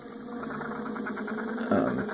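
A small electric motor driven by a BoostXL-8301 board with a C2000 controller spins smoothly at low RPM, giving a steady soft hum with a faint regular pulse and a slight rise near the end.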